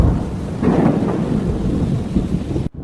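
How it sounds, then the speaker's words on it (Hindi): Steady heavy rain pours down with a low rumble of thunder rolling underneath, loud and continuous, ending abruptly. "बाहर कितनी तेज बारिश हो रही है"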